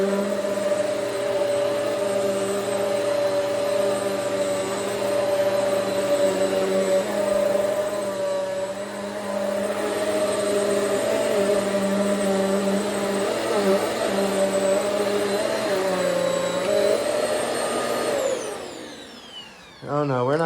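A Hoover Swivel XL Pet vacuum cleaner runs steadily with a loud, droning whine and airy rush, close by, its pitch wavering slightly as it moves, then winding down near the end.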